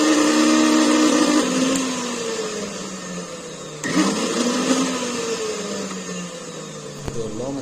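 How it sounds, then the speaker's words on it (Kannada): A kitchen mixer grinder brought in for repair whirs loudly when switched on, its motor pitch sagging slightly and surging again as it runs continuously with no talk. "ಈ ಮಿಕ್ಸಿ ರಿಪೇರಿಗೆ ಬಂದಿದೆ. ಇದೇನಾಗೈತೆ ಅಂತ ಆನ್ ಮಾಡಿ ನೋಡೋದ."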